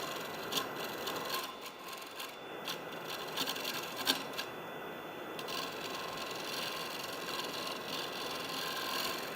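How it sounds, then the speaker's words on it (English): A carbide scraper cuts a wooden bowl spinning on a lathe, making a steady, dense, raspy whirr with small scratchy spikes, close and continuous throughout. "we could bring in our carbide, right? Because our carbide's a good scraper"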